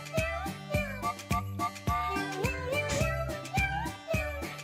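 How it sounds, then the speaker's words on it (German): Cats meow repeatedly in a video game trailer over bright, bouncy music with chiming tones, the meows blending into the melody at a steady moderate loudness. "Oh, Katzen."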